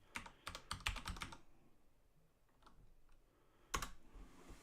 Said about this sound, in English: It's just not registering some of the keys I'm hitting.